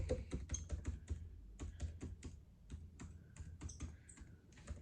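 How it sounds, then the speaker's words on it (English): Rapid typing on a MacBook Pro's built-in keyboard, with soft, quick key clicks in irregular bursts, close and quiet, no voices. "Now I'm going to try this on my MacBook Pro's built-in keyboard."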